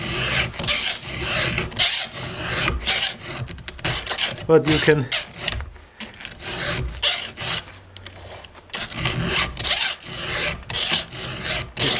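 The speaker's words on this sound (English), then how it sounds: "show you how to properly sharpen a chainsaw" Repeated rasping strokes of a file sharpening a chainsaw chain, steady back-and-forth rhythm, close by, with brief speech in between.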